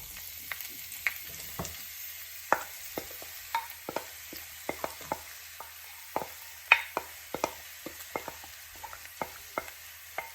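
Sliced medium onions hit hot oil in a pan for mutton bhuna, giving a soft steady sizzle broken by scattered clicks and light scraping as they are stirred, fairly quiet with no talk.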